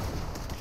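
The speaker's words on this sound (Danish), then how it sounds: "Skud!" Gunfire in Fortnite cracks in a quick noisy burst, loud and close, with no talking over it.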